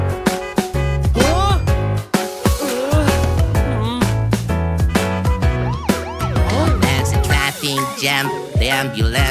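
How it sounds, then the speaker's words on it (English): A wailing ambulance siren sounds inside a children's cartoon song about cars. Its rising and falling tones are woven through loud, bright music with percussive hits. "The ambulance is rushing, but Rumi thinks anyway."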